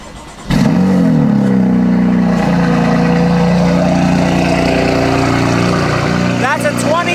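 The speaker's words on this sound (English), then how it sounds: "That's a 26-degree cold start." BMW F82 M4 engine firing up on a 26-degree cold start, a sharp crank and loud bark followed by a steady, high fast idle that holds close and loud throughout, with a brief blip near the end.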